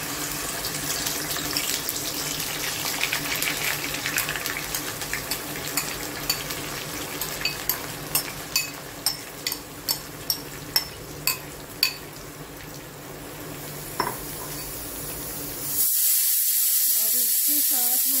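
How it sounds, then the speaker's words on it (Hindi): Ground onion paste hitting hot ghee in a pan for mutton paya, giving a broad running sizzle with a string of sharp crackles and pops, then swelling into a louder, steady hiss near the end. "तो ये हमारा घी गरम हो चुका है और यहाँ डाल देंगे हम इसमें जो पिसी हुई अनियन है।"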